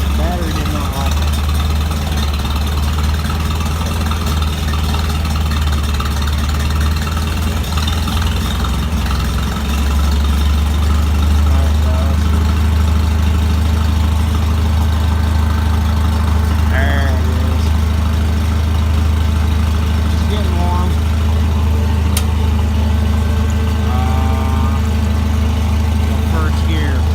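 A gasoline truck engine idles after a cold start with a steady, low, close rumble that runs the whole way through. Faint voices come and go in the later part.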